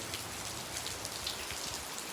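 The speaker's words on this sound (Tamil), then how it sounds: "பாருங்க, மழை சோன்னு பெய்யுது." Heavy rain pours steadily outdoors, a dense, even hiss of drops striking surfaces close by, with no break and no voices.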